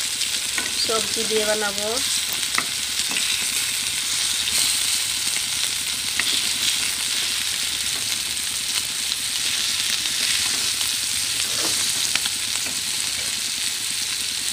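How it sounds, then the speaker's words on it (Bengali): Fish frying in a pan, a loud continuous hiss and crackle filling the whole stretch with occasional stirring, while someone speaks briefly near the start. "মাছ ভাজি বসাইছি"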